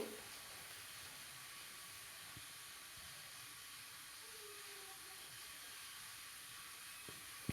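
A pot of ghugni boiling during cooking gives a steady, faint bubbling hiss that holds evenly throughout, with no talk.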